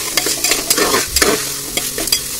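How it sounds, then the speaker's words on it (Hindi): Lentils stir and sizzle in a hot pan, with a spatula scraping in short, repeated strokes and a steady frying hiss underneath. "तो ये अभी अच्छे से फ्राई हो गया है दाल"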